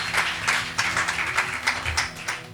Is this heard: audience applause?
yes